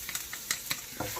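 Garlic sizzling and browning in a pan for vegetarian fried rice, a soft steady fry broken by a few quick scrapes and stirs of a utensil, close and moderately quiet with no talk.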